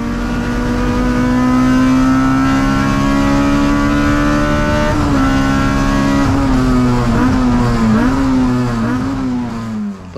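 A race car engine drones loud and steady at high revs during an endurance race at Sepang, its pitch dipping and climbing through a series of smooth gear shifts toward the end.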